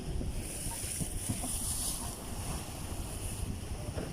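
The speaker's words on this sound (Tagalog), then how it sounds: "nagwawala po yung mga alon po dito sa may pader" Sea waves surging against a seawall in Tondo, Manila, a steady loud roar of churning water mixed with gusty wind buffeting the microphone, no talk.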